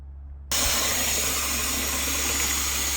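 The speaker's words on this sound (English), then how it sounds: "we're gonna get the lettuce and get that a wash" Steady rush of running tap water begins abruptly after a short quiet moment and continues loudly and evenly while lettuce is washed under it.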